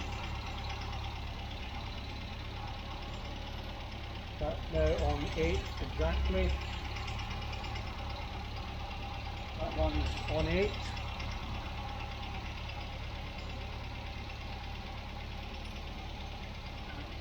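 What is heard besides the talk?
car engine idling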